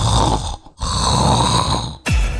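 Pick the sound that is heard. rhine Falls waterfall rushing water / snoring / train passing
snoring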